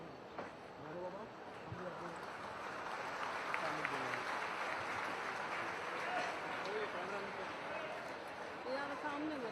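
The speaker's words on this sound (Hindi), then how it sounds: "ये तालियां पीछे बैठे सिर्फ नौजवान बजा रहे हैं" A crowd at an outdoor public ceremony on a river ghat claps in a distant, faint, steady patter that continues throughout, with voices audible underneath.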